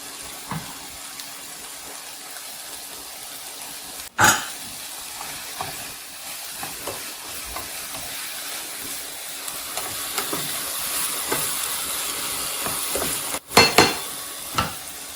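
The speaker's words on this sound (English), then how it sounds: "I'll add the garlic now at this point." Garlic sizzling in a hot pan alongside salmon, giving a steady close hiss with small crackles throughout and two sharp clatters where ingredients or a utensil hit the pan.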